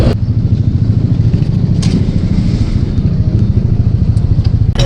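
A motorcycle engine runs loud and close with a steady, throaty rumble, revving hard throughout with a rough, pulsing texture and no pauses.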